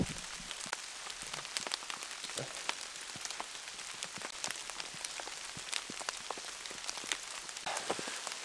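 Heavy rain pours steadily onto a canvas tarp stretched over a log shelter at a solo overnight campsite, a dense, even patter with scattered sharper drops close by and no voices.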